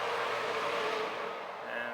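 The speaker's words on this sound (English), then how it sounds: "There goes a tractor by on the highway" A tractor passes on a nearby highway, a faint, steady rumbling hum in the open air over a couple of seconds.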